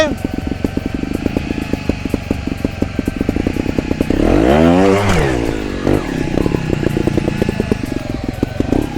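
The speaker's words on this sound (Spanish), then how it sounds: "Voy a subir este escalón que tengo aquí en segunda. Fijaros qué golpe de gas tan interesante." A Vertigo trial motorcycle idles with a rapid, close putter, then gets a sharp burst of throttle in second gear as it climbs a step, rising in pitch before it drops back to idle.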